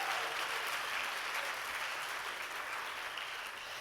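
Audience applause at a fine arts opening ceremony honoring homestay host families, a sustained, steady wash of clapping from a crowd that fades slightly toward the end.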